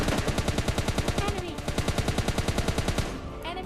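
Rapid automatic gunfire from bots in a squad shooter game, a steady stream of evenly spaced shots for about three seconds, loud and close, then tapering off.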